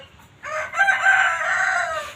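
A rooster crows loud and close in a home garden: one drawn-out cock-a-doodle-doo lasting nearly two seconds, heard alone after a brief quiet start.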